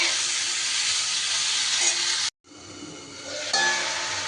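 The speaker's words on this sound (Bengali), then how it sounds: "এইবার কেটে রাখা টমেটোটা দিয়ে দিলাম।" Chopped tomato hits a pan of frying potato and long beans, a strong continuous sizzle with stirring, cutting out briefly before the hiss resumes and swells louder near the end.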